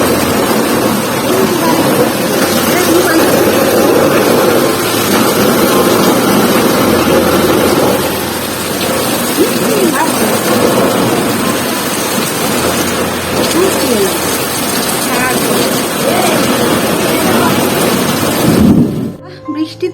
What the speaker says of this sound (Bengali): হঠাৎ করে প্রচন্ড বৃষ্টি শুরু হয়ে গেছে সেই সাথে ভীষণ হাওয়াও দিচ্ছে মানে ঝড় বৃষ্টি যাকে বলে